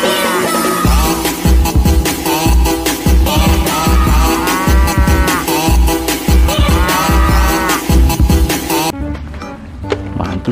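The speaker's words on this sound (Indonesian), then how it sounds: "Wadidaw, ada sapi." A cow moos in a children's toy video, with repeated drawn-out bellowing calls over busy music and effects, loud and close.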